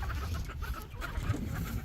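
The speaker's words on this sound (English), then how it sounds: "here's the chickens." Farm chickens, including silkies and other mixed breeds, clucking softly in a coop during morning chores, several overlapping low clucks close by with outdoor background noise.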